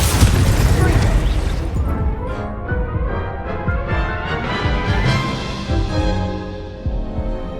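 Confringo explosion spell cast in a Hogwarts Legacy duel, a string of booming blasts and crackling bursts layered with spell effects and battle music, loud and dense throughout, with voices calling out spells over the clashes.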